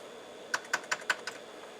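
Five crisp, evenly spaced key clicks from an Amiga A2000 computer keyboard, typed close by over a quiet background hum, with no voices.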